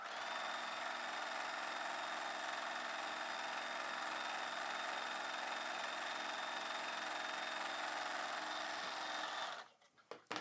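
A sewing machine stitches a belt piece onto a cross-cut blouse in a steady, fast whirring run lasting several seconds, then stops abruptly with a few faint clicks.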